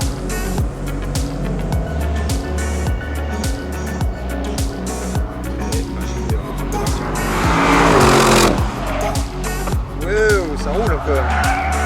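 An Audi RS6 Avant is driven hard around the technical La Ferté-Gaucher circuit, its engine note rising and falling through gear changes and tires squealing briefly, with a voice talking over the engine.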